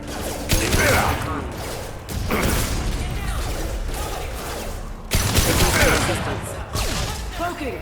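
Gunfire in the video game Mass Effect 2 during a squad firefight, loud sustained bursts and rattling shots, with dense mechanical clatter that pauses briefly and resumes, mixed with game effects.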